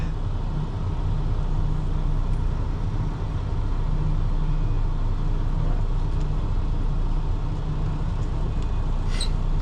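Loud, continuous rumbling vehicle noise with rattling, like an old truck driving on roads in Hawaii, steady throughout with occasional faint high squeaks.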